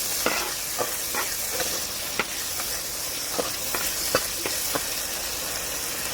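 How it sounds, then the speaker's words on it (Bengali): Spices frying in a pan for soya chunk curry with yogurt, a constant close sizzle broken by repeated scraping strokes of stirring, with no talking. "মশলা আমি আবার ভালো করে ভেজে নেবো"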